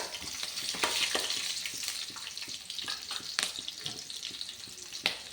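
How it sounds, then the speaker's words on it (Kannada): Onion and garlic frying in oil in a pan, a steady close sizzle with scattered crackles and stirring scrapes throughout, no voices. "ಮೊದಲಿಗೆ ಈರುಳ್ಳಿ ಬೆಳ್ಳುಳ್ಳಿ ಹಾಕಿ ಫ್ರೈ ಮಾಡ್ತಿದ್ದೀನಿ"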